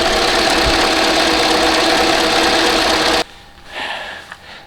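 A broken car engine runs roughly and loudly with a rattling, knocking drone for a few seconds, then cuts off abruptly, leaving a quiet background with a faint rustle.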